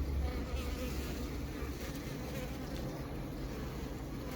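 A dense, steady buzz of many honeybees droning together at close range inside the hive, continuous and even throughout, with no talking.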